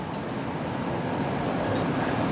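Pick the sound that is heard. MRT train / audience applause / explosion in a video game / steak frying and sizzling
MRT train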